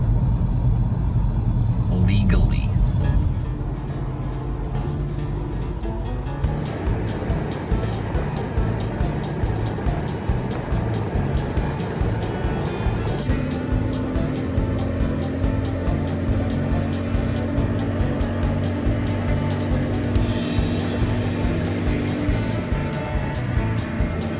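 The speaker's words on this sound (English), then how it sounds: "All right, back on the highway." A Chevrolet square body truck carrying a camper cruises down the highway with a steady low engine rumble and road noise, with brief talk at the start.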